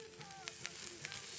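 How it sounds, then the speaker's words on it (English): Smoked meat sizzles on a grill over a campfire at a campsite, a steady close crackling hiss with small pops throughout, loud and alone. "Smoked meat. Sizzling on the grill."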